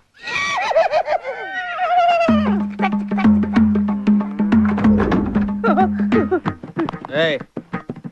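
A horse whinnies loudly and close for about two seconds in a Telugu movie comedy scene, then a steady musical drone with scattered knocks and voices follows.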